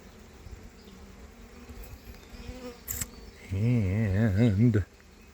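Large black honeybee drones at an open hive give a close, loud buzz lasting over a second, rising and wavering in pitch above faint background noise and handling sounds.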